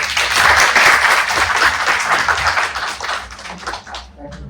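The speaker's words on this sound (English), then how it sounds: "a huge round of applause for Sir" Audience applause at a university fireside chat welcoming an alumnus guest, a dense, loud round of clapping from many hands that swells early, then gradually thins and tapers toward the end.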